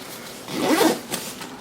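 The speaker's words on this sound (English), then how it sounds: "And kind of zip it up." A zipper is pulled closed on a Crye Precision AVS 1000 pack, giving one close, raspy zip of about half a second followed by a few small fabric rustles.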